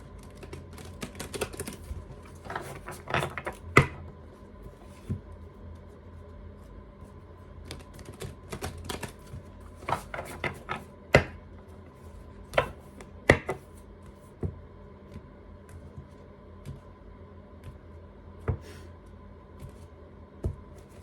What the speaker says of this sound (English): Shuffling this deck.